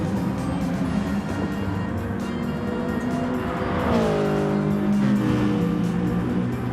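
Race cars in Gran Turismo Sport brake and downshift into a chicane, one locking up its tires, with steady engine drone and a pitch sweep of revs as they exit, loud and continuous.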